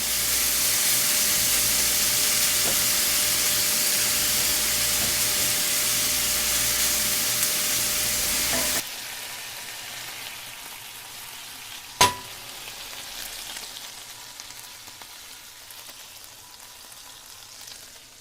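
Ginger stir-frying in oil in a pan until golden brown, a loud steady sizzle that drops suddenly to a much quieter hiss halfway through, with a single sharp clank of a utensil on the pan afterward.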